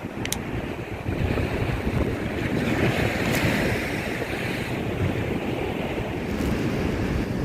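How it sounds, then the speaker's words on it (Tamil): Big storm waves at sea off Point Pedro, a loud continuous roar of surf and wind buffeting the microphone throughout, with no talking. "பாருங்கோ தூரத்தில் ஒரு அலை வருது பாருங்கோ பெரிய அலை வருது"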